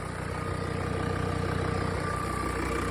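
A Mercedes OM602 2.9 turbo diesel engine idles steadily at close range, a continuous loud rumble with a fast regular clatter and no pauses throughout.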